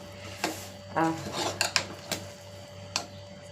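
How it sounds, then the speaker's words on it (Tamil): A spoon stirs a rice dish strewn with chopped coriander and mint in a pot, giving a few close scraping and clinking strokes over a steady low hum. "அதை தூவிட்டு இப்போ நம்ம அதை கிண்டி விட்டுக்கலாம்"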